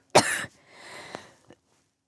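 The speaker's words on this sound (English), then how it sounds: "I have to cough." One harsh, close cough starts it off, followed by quieter throat noise and a softer second cough, then another cough begins as it ends.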